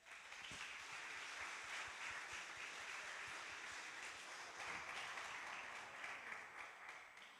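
Audience applause closes a French panel session on Python and entrepreneurship, a faint, dense, even patter of many hands continuing throughout with no distinct voices.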